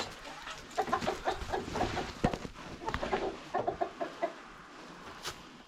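Chickens cluck in choppy bursts close by, a flock murmuring and clucking on and off with no talk over it.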